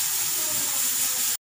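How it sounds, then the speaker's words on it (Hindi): A pressure cooker whistle hisses steam while chicken yakhni cooks, a loud steady rushing hiss that runs unbroken for about a second and a half and then cuts off abruptly. "कुकर की सीटी जो है वो चल रही है"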